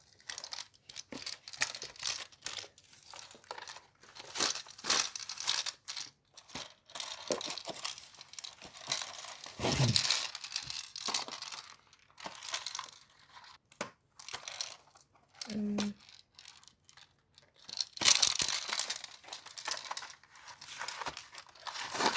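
Plastic and cardboard packaging of a Piccolo Mondi pinball toy being torn open indoors, with repeated close crinkling, crunching and tearing bursts across the stretch and a few brief low thumps.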